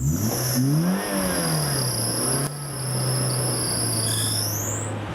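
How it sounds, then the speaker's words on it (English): Safari vehicle engine revs up and settles into a steady drone, with a loud whine from a worn fan belt running throughout and no talking. "And revving of the engine."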